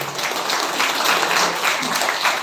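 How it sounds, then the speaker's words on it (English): Students in a school hall clap together at a chess awareness program, a loud, dense burst of hand clapping filling the short moment without any voices. "Let's clap hands for it."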